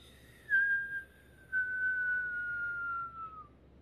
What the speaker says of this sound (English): we inhale with a whistle through rounded lips and we let the tongue get involved